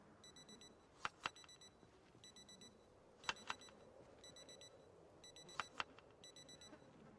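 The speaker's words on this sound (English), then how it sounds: "No zombies hear the sound of the alarm?" An alarm clock in the survival video game Project Zomboid rings in short repeated bursts of high electronic beeping, quiet and evenly spaced, with a few sharp clicks and a low background hum.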